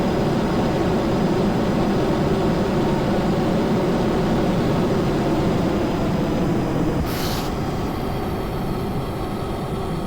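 An air-breathing jet engine in Kerbal Space Program gives a continuous loud, broadband roar that holds steady for the whole stretch, with a brief higher hiss near the end.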